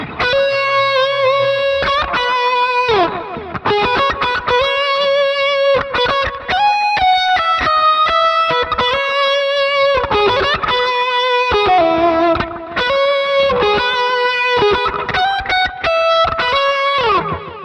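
A distorted electric guitar through a Helix amp preset with the Plex drive plays chords and melodic lines in a steady, loud, continuous performance with a crunchy overdriven tone and some chorus-like shimmer, no talking.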